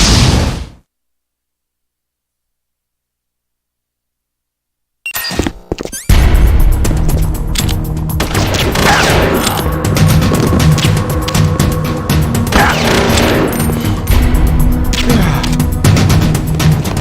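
Gunfire in the video game Metal Gear Solid: The Twin Snakes: after a brief sound and a long silence, sharp bursts give way to dense, loud, continuous shooting that keeps up to the end.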